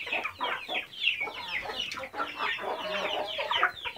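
A flock of chickens clucks and squawks continuously at close range, overlapping calls forming a busy, steady chorus.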